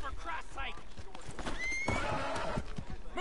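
Hooves clop steadily while a horse whinnies in the video game Red Dead, with people talking over the sounds.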